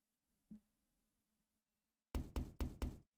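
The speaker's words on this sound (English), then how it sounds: "A knock on the door." A door knock in the visual novel The House in Fata Morgana: one faint tap, a pause, then four sharp, evenly spaced knocks, loud and close.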